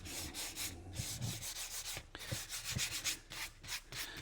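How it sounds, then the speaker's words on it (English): Hand sanding the finish of an old steering wheel, close rhythmic rubbing strokes of abrasive over the rim, steady and fairly quiet with no talking. "we'll get all the sanding dust off of this"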